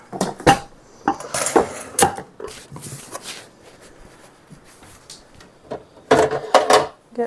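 Metal pans clatter and clank in several sharp bursts, with scraping and rummaging between them and a loud cluster of knocks near the end.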